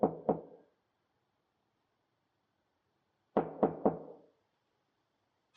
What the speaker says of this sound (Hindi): दरवाजा खटखटाओ।